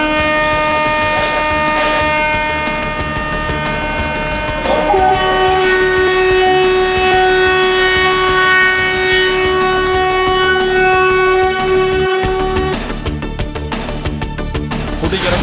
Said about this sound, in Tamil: 2 புதிய அம்ரித் பாரத் ரயில் சேவைகளையும் கொடியசைத்து தொடங்கி வைத்தார்